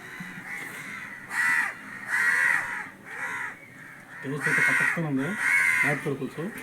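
Crows caw repeatedly in loud, harsh bursts, several birds calling close by, with a person talking between and under the calls.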